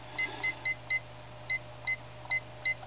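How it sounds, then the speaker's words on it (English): Short electronic timer beeps at an airport security body-scanner checkpoint, eight evenly spaced high tones about every third of a second with brief gaps, fairly clear over a steady low hum. "I'm going to set my timer, hold on."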